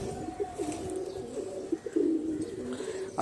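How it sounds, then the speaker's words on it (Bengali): Low, throaty pigeon coos repeat steadily close by in a home pigeon loft, with a faint chirp now and then and no talking. "এই যে পায়রাগুলো দেখছো যেগুলো ওপরে তোলা আছে"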